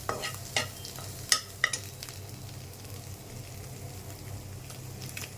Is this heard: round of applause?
no